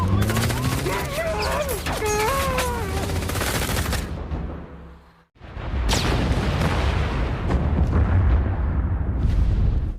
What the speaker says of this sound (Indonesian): Lalu mereka pun baku tembak dengan polisi Cina dan berusaha kabur dari tempat tersebut.